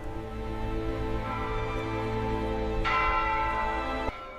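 Church bells ring continuously in overlapping, sustained metallic tones with layered harmonics, steady and fairly distant, a new strike swelling in near the end, with no voices.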